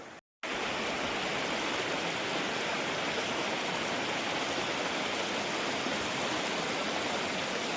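Steady, loud rush of river water at a village fishing spot, a dense broadband roar that fills the whole clip, broken only by a brief dropout at the very start, with no voices.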